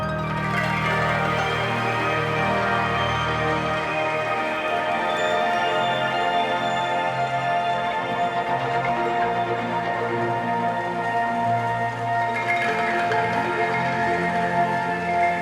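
Cube, a sample-based synth, plays sustained chords layered across several tracks, forming a dense, continuous wash of sound that shifts gradually throughout, loud and steady with no pauses and no voices.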